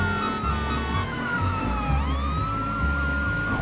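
An ambulance siren sounds loud and steady for the whole stretch, a wailing electronic tone under a rhythmic low pulse, with no talking over it.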